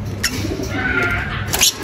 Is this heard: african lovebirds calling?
yes